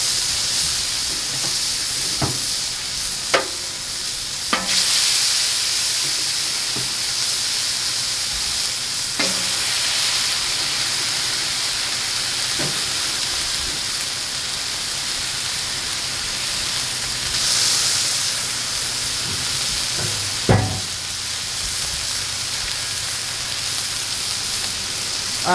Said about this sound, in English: we're going to put these burgers on the grill